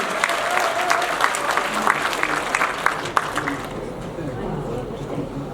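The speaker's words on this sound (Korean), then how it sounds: "큰 박수 부탁드리겠습니다." Audience applause in the auditorium of the Seonbu-dong workers' welfare hall during a party members' meeting, steady dense clapping from a large seated crowd that thins toward the end.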